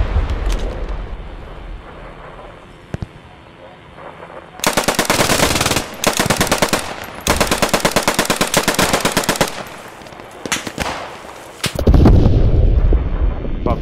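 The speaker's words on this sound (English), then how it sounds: "There, MG on my front." Machine gun fire in the Post Scriptum video game rips out in long, loud sustained bursts with short pauses between them, with muffled battlefield noise before and after.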